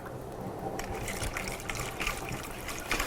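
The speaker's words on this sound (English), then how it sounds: "and water, about a cup of water." About a cup of water pours into a gyoza dipping sauce of soy sauce, vinegar and sesame, a close gushing fill that starts suddenly and splashes on steadily for a few seconds.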